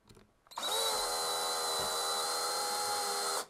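A power drill installing a Sargent 10X lock in a door whines at a steady high pitch for about three seconds, starting abruptly after a brief click and stopping sharply, close and loud with no talk.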